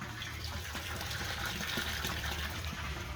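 Water pumped up through a homemade fish barrel aquaponics system, flowing and splashing steadily into barrels and a sump, a constant close rushing trickle with no voices.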